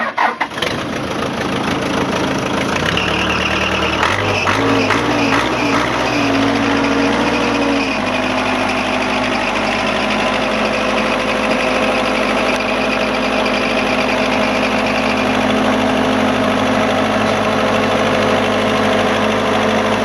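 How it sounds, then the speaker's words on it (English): Backhoe diesel engine cranking and firing up, then settling into a loud, steady idle that rumbles on for the rest of the stretch, heard close by. "we'll just get Ken McKay to fire it up and get it started up, and you'll just take a look and hear it go"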